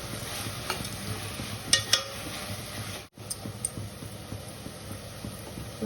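Tomato pieces with turmeric and ginger-garlic paste frying in a pan, a steady close sizzle with occasional spoon scrapes and stirring clicks, briefly cut off midway.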